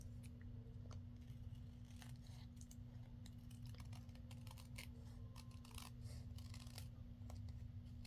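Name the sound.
scissors trimming an acetate sheet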